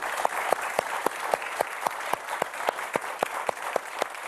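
A studio audience applauds at a television game show celebrating its 6000th episode, producing dense, even clapping with regular sharp accents that holds steady throughout.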